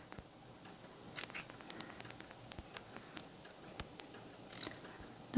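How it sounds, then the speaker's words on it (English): Small scissors snipping repeatedly through netting in sharp, irregular clicks over a low background hiss. "Not easy to cut through with these little things. I guess I should be using some different scissors"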